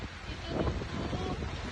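Strong wind and rain batter Merak port in Cilegon, Banten, in the early morning hours: a loud, dense roar of gusts and rushing rain with no breaks.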